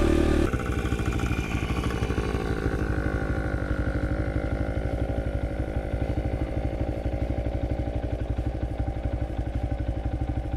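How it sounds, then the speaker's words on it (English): A pit bike engine runs steadily while riding around a yard on dirt, a loud, close, continuous buzzing drone with a rapid mechanical pulse and no talking over it. "Just going to be doing a little bit of dirt bike stuff."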